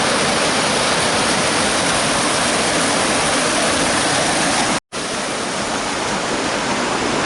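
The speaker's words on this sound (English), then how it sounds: "you can just feel the force of that water coming through there." Loud, dense roar of water forcing through a cut-stone channel at an old iron furnace, constant and close, broken by one brief dropout near the end.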